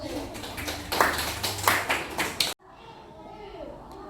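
Pupils in a classroom clap together in a burst of rhythmic hand claps with children's voices mixed in, stopping abruptly halfway, leaving quieter room sound and faint chatter.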